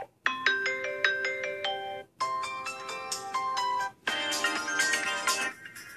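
A Samsung Galaxy S7 Edge phone speaker plays bright, electronic ringtone melodies in three short bursts separated by brief pauses. The chiming tones sound close and moderately loud, and no one speaks.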